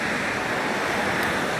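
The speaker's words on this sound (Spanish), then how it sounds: "vine a esta locación de grabación que es el río Nazas" Flowing water of the Nazas river makes a steady, even rush of broadband noise, close and continuous, with no voices.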